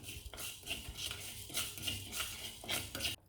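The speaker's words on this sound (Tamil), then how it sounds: "இதே கடாயில் வெந்தயம் சேர்த்துக்கலாம் லேசாக வறுத்துட்டு எடுக்கணும்" Fenugreek seeds lightly roasting in a kadai, heard as a run of close metallic scrapes and clinks from a spatula stirring against the pan in uneven bursts, with no voices.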